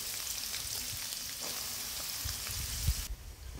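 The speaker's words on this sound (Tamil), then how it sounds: "2 மீடியம் சைஸில் பொடியாக நறுக்கி வச்சுருக்க வெங்காயம் போட்டுக்கோங்க. வெங்காயம் நல்லா வதங்கட்டும்." Finely chopped onions fry in hot oil with whole spices for a prawn gravy, a steady close hiss of sizzling with a few soft clicks of stirring near the end.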